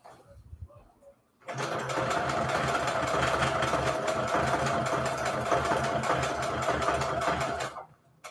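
A sewing machine runs a long straight stitch, its motor whirring steadily and loudly for about six seconds after a brief pause, with a faint voice at the very start.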